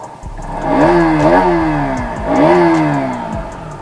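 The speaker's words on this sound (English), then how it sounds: "let's hear the exhaust note for a while" KTM Duke 200 single-cylinder motorcycle exhaust, revved twice in quick blips that climb and fall back to a lumpy idle, close and loud with no talk.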